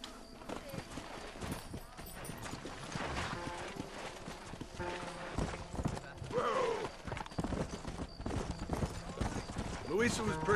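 Horse hooves clip-clop in the video game Red Dead Redemption, a steady rhythmic trot mixed with game sounds and music, with voices talking over much of it.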